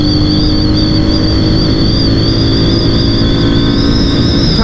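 A Royal Enfield Meteor 350 motorcycle engine roars loudly up close, its pitch climbing steadily as it accelerates through the gears toward top speed.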